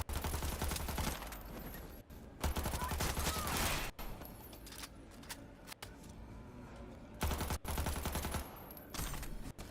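Submachine gun fire in a video game, with several sustained rapid bursts separated by short pauses, loud and close, under occasional light background sound.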